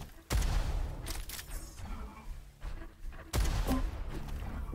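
Rocket launcher rockets striking in the arena shooter Diabotical during a competitive LAN match, two sharp loud blasts a few seconds apart, each trailing off into rumbling game noise, with no talking.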